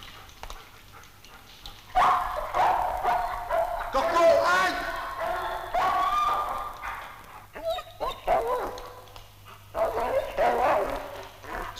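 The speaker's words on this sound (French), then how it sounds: "Les aboiements peuvent inspirer plus de crainte que le cliquetis des armes." Military war dogs of the French army in the 1960s barking in repeated bursts, with a voice talking over much of it.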